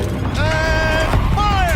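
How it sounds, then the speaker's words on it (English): Heavy mechanical whirring and creaking of a turret rotating in Horizon Zero Dawn, with rising and falling tonal whines over a dense, steady rumble for under two seconds. "Rotate turret!"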